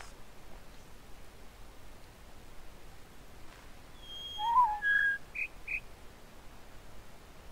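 A short whistled melody from The Witness puzzle game sounds alone over soft hiss: a few clear tones in quick succession, with brief higher chirps after them, faint and close.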